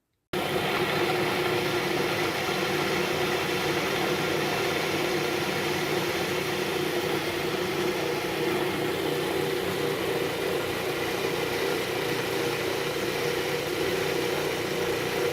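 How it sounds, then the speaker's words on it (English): A food processor whirs steadily, blending veggie burger ingredients in a loud, continuous, even drone that runs without pause from start to finish. "here are all the ingredients in the food processor, and I'm going to put the top on and give it a spin"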